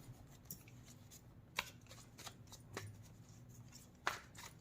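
A tarot deck is split in two and cards are drawn, producing faint close paper flicks and soft slides, a few brief sharper snaps among the rustle, with no voice.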